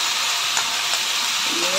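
Sauce poured into a hot pan of vegetables in a home kitchen sets off a broad, steady sizzle and hiss that runs evenly through the moment, with no talking over it.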